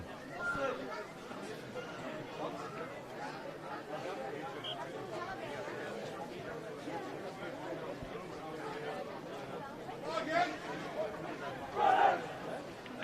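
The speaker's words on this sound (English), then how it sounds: "There's a nice crowd here in Dendermonde." Spectators in the stands at a Dendermonde rugby match between Dendermonde Rugby Club and 't Gooi, around 100 to 150 people, keep up a steady murmur of overlapping chatter that swells slightly near the end.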